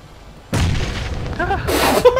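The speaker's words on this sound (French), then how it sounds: "j'ai une grenade, je vais lancer la grenade dessus" A grenade goes off in the PUBG battle royale game as a sudden loud boom followed by a rolling rumble, with a voice briefly heard over the tail.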